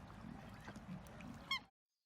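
Ducks call at a bird sanctuary near Mount Fuji: a soft murmur of outdoor ambience, then one brief nasal honking call close to the end before sudden silence, all quite faint.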